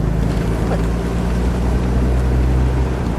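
A 1954 Kaiser Darrin 161 sports car drives along with a steady, droning engine and road rumble, constant and close, with wind noise and no voices.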